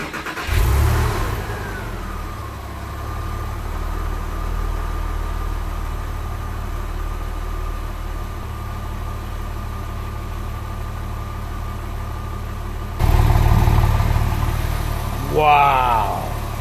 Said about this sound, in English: It's the moment of truth, our first startup with AMSOIL.